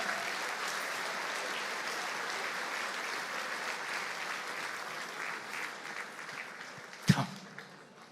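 Sustained applause from an audience at a police awards evening honouring a Chief for a Day and deputy chiefs, steady clapping from a sizable crowd with a louder sharp clap near the end.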